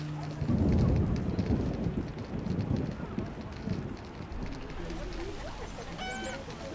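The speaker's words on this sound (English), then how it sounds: "And it's still raining." A thunderstorm in the game The Witcher (remastered with mods): continuous heavy rain hissing over low rolling thunder, with a deep rumble swelling near the start and the downpour carrying on steadily.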